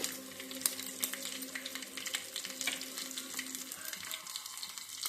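Steady sizzling and crackling of garlic and onion frying in hot oil, close up and continuous, with no talking.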